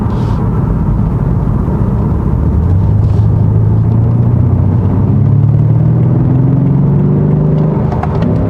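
BMW M5 Competition engine under launch acceleration, a loud, close rumble whose pitch climbs steadily as the car pulls hard, with no speech over it.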